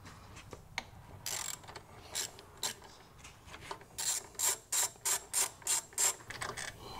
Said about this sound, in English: We've got a 10 millimeter and we're going to take each bolt off.